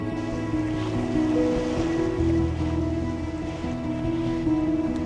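Atlantic Ocean waves and surf on the South African coast near Saldanha Bay wash in a continuous broad roar, steady and fairly loud with no voices.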